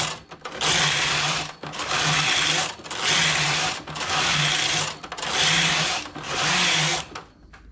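A knitting machine carriage knitting a lace cardigan, sliding back and forth in repeated loud mechanical passes of about a second each, separated by short pauses, close up with no talk.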